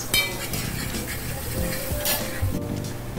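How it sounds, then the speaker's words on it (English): Garlic cooks with softened onions in a pot for tomato basil soup: a close, steady sizzle under frequent scraping and clinking of a utensil against the pot, with no voices. "Add garlic and cook for another 2 to 3 minutes."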